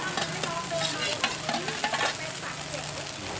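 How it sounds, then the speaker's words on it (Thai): Garlic and bean sprouts are stir-fried in a hot pan for a fried mussel pancake, giving a loud, continuous sizzle with scraping and clinking of a spatula against the pan close by. "จะผัดกระเทียมก็ผัดแล้วใส่ถั่วงอก"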